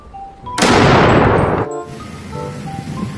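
A single loud shotgun blast in a dinosaur battle video game, a harsh burst that holds for about a second before cutting off, with soft chiming game tones before and after.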